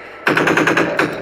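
A short, loud burst of rapid machine gun fire in Garry's Mod, about ten rounds in quick succession, close and punchy, with no talk.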